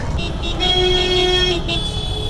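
Heavy evening road traffic with cars honking: a sustained car horn blares loudly up close over a rumbling engine bed, with a few short toots breaking in around it and a faint voice underneath.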